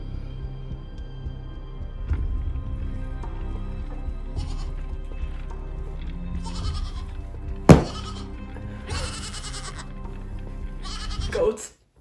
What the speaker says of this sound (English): Goats are back.